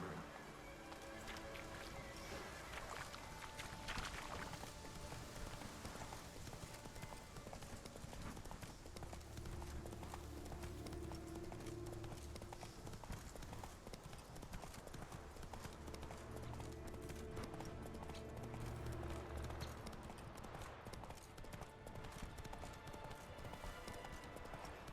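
Roach the horse gallops through the world of the Witcher 3 game, hooves clip-clopping in a fast, steady rhythm that carries on throughout, with a faint whinny and a voice speaking now and then.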